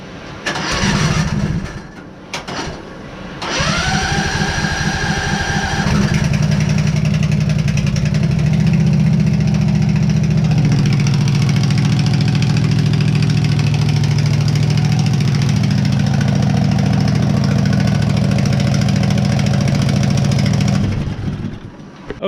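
A machine fitted with a bigger-than-stock engine cranks a few times, then catches and settles into a steady, loud, rumbling idle with a buzzing mechanical hum, running nearby for many seconds before cutting off.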